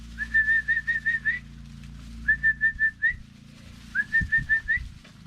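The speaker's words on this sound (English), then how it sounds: "you can see they come when we got the whistle going" A whistle calling puppies to treats: three bursts of quick, bright repeated toots, each a short run of five or six notes with a rising finish, with faint low rumble and rustling beneath.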